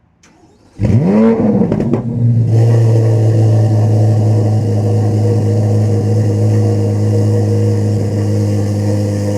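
A 2026 Chevrolet Corvette Z06 engine cranks and fires up with a loud rev at the start, then settles into a deep, steady idle rumble close by.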